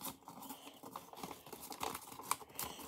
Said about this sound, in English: You fold it.